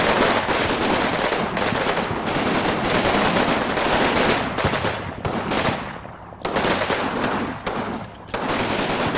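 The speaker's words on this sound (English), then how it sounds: "it's just going to be these guys shooting" Sustained bursts of automatic gunfire and overlapping shots from units firing at an area target in a military strategy video game, loud and dense, with brief pauses between volleys.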